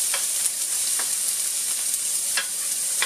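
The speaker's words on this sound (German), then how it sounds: "Hier habe ich eine Pfanne vorbereitet mit etwas Öl. Hier habe ich die Zwiebeln schon geschnitten." Onions fry in oil in a pan, giving a steady close sizzle with faint crackles and stirring scrapes throughout, and no one speaks.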